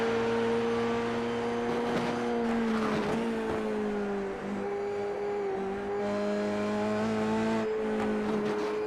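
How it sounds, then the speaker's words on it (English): An F3A race car's exhaust at the Red Bull Ring: a loud, sustained engine drone at nearly constant pitch, dipping briefly around the middle as the car backs off, then climbing again, with track noise around it. "have a listen to the exhaust"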